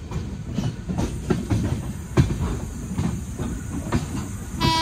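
A train rolls across a railway diamond crossing near Nagpur, with steady rumble and hiss under irregular wheel clacks and thumps as the wheels strike the crossing frogs, heard from on board.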